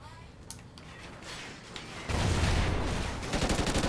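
Rapid bursts of automatic gunfire from the Call of Duty: Ghosts video game erupt loudly in the second half after quieter scattered shots, forming a dense rattling fusillade.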